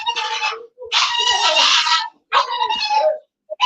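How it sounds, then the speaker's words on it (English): An excited dog gives a run of high, loud whining yips and whimpers in three bursts with short pauses between, close by and alone, during a livestream about tarantulas. "My dog's excited."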